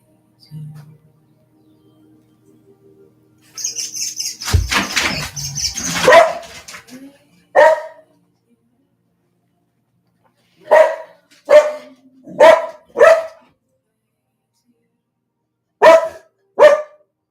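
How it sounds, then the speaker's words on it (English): A dog barks nearby in short bursts, a cluster of sharp barks separated by quiet pauses, after some brief faint noises at the start. "Kevin, stop barking"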